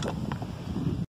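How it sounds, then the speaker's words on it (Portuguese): Wind gusts roar steadily across an open carp fishing pond at Pesqueiro Canaã in Monte Mor, a buffeting rush on the microphone that cuts off abruptly near the end. "Vento que Deus manda."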